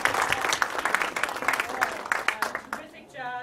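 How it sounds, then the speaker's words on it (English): An audience applauds a panel at a good-governance lecture event in Detroit, with dense, steady clapping that carries through the whole stretch before tapering off at the end. "Let's give a round of applause to our panel."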